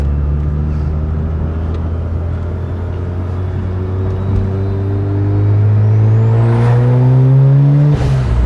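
A Mazda RX-8 rotary engine, under repair for cooling issues, starts and runs at close range with a steady droning whir, its pitch rising near the end as the revs climb.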